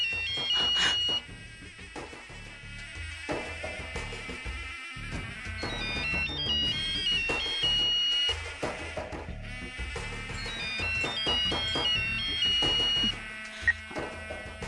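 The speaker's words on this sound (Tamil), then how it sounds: "ராணி, போன் அட்டெண்ட் பண்ண உனக்கு இவ்வளவு நேரமா?" A phone ringtone plays as a repeating electronic melody of bright beeping tones over a steady background bed, continuing for about fifteen seconds with no talk.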